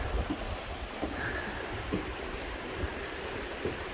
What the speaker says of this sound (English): It's just nothing like the sound of flowing water.